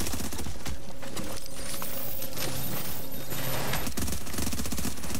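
Rapid automatic gunfire from a shooter video game, The Division, rattles in dense continuous bursts at loud, close range, with brief metallic clinks mixed in.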